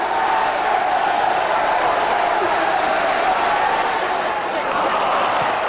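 Big bank holiday football crowd at a Portsmouth match, a loud, steady roar of massed voices filling the stadium throughout, continuous with no breaks.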